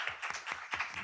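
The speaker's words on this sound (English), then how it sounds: "so an applause for Leticia, who needs to go" A few people clap in a sparse, quick rhythm, about five distinct claps, quiet and close.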